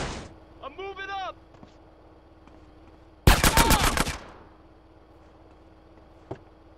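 Bursts of automatic gunfire ring out in GTA San Andreas, a loud rapid volley of sharp cracks around the middle, preceded by a brief chirping tone and followed by a lone distant shot, with a voice shouting briefly.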